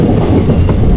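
Sleeper class train on the Palakkad–Pazhani line rolling into Pollachi railway station, a steady loud rumble of wheels and carriages with a faint rhythmic clatter throughout, no voices.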